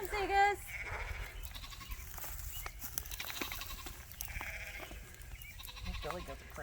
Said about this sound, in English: Playing with the goats, looking at the sheep.